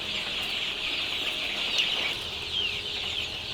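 A flock of young chicks on a poultry farm, cheeping in a dense continuous chorus of high, overlapping peeps, close by with no talk.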